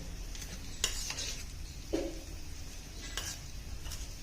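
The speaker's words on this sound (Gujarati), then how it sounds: "તો આ રીતે એકદમ સરસ મિક્સ કરી લેવાનું છે" Spoon stirring and tossing homemade chaat with sev in a bowl, soft scraping and occasional light clinks against the bowl, faint and close, no voices.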